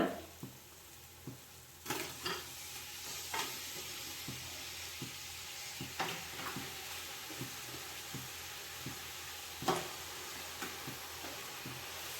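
Mutton pieces fry in hot oil with homemade bhuna masala, giving a steady, fairly quiet sizzle broken by regular scraping stirs against the pot, with no voices.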